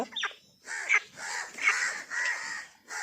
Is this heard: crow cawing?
yes